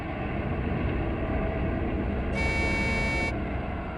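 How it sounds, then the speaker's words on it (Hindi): Truck engine in a forest: a low, continuous rumble with a single steady horn blast of about one second partway through, heard from a moderate distance with no voices. "ट्रक की आवाज? ट्रक जंगल में?"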